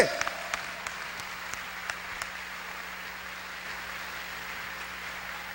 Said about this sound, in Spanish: Dale un aplauso al Señor bien fuerte.